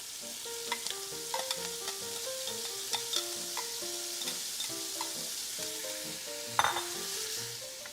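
Onions frying in fat in a pan for braised short ribs give a steady, close sizzle with occasional stirring clicks, under background music throughout.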